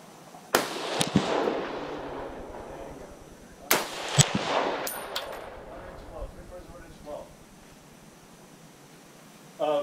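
A .308 M1 Garand rifle with a Lothar Walther barrel fired outdoors: two sharp loud shots a few seconds apart, each followed by a rolling echo, with faint voices in the background.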